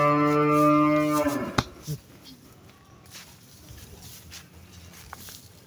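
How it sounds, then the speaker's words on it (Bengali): A large Holstein Friesian milking cow gives a loud, drawn-out moo at close range for about a second and a half, followed by quieter barn shuffling and faint background voices. "গরুটা একটা অরিজিনাল হলিস্টাইন ফ্রিজিয়ান গরু"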